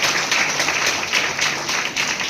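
Applause from an audience at a meditation gathering, a dense steady patter of many hands clapping together for about two seconds, with no speech over it.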